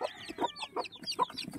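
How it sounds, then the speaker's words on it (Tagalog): Newly hatched chicks peep in a small batch, a rapid string of high, thin chirps repeating close by, faint and without talk. "grabe ang sisiw"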